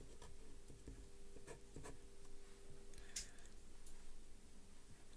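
Someone writes on a board during a class 10 trigonometry lesson, making quiet, scratchy strokes in short bursts separated by pauses, faint and close, with a soft background hum.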